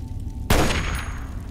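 A single loud, sharp gunshot cracks out in a Fallout Tale of Two Wastelands firefight amid DC ruins, its echo trailing off quickly over a low background hum.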